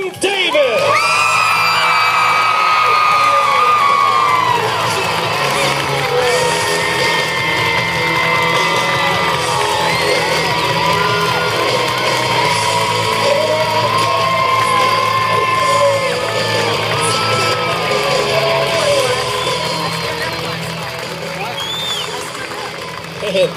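A large arena crowd at a PBR bull riding invitational introduction cheers, whoops and yells continuously for over twenty seconds, loud and dense, easing slightly near the end.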